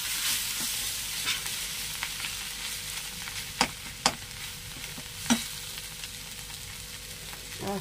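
Mushroom and shrimp fry hard in a pan with a loud, continuous hissing sizzle close by, punctuated by three or four crisp taps of a spatula against the pan, with no voices.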